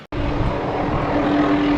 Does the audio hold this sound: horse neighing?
no